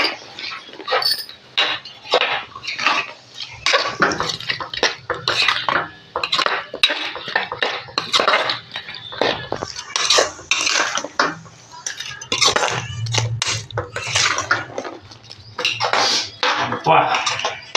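Dried fish and cucumber pickle ingredients are mixed by hand in a bowl, giving repeated wet squelches and clattering knocks against the dish in an uneven rhythm, close and fairly loud, with brief voices now and then.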